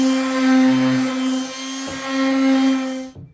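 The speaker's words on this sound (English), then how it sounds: "I'm going to sand all the edges on these things" A steady, loud power sander hums on the edges of a wooden art piece, with a constant droning tone and slight changes in load, then spins down abruptly at the end.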